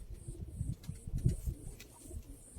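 A pigeon coos in a series of soft, low, throaty pulses, close but faint, with short pauses between the calls.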